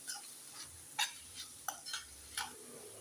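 Fried egg being tossed and mixed with vegetables in a pan for a rice dish, heard as a few quiet spatula scrapes and taps over a faint sizzle.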